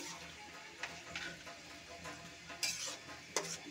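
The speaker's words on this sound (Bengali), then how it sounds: "এখন আমি সিদ্ধ করা ডালগুলো দিয়ে দিচ্ছি।" Boiled chana dal tipped into a pan of sautéed spices for a dal with green peas and stirred, giving soft scraping and clinks with a faint sizzle and a couple of sharper utensil knocks, close and fairly quiet.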